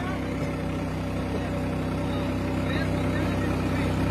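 A new Farmtrac 60 tractor engine idles close by with a steady low rumble that swells slightly near the end. Voices call out over it.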